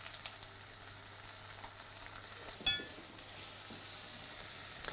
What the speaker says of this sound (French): on va bien mélanger la farine